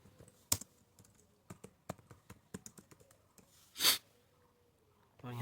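Keys tapped on a computer keyboard while a registration number is entered on a school admission form, scattered crisp clicks at an uneven pace, with a louder breathy burst in the middle and a voice starting at the end.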